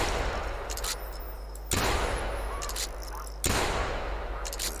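Gunshots while hunting snow geese in theHunter, three loud sharp shotgun blasts spaced evenly about every second and a half, each followed by a long decaying echo.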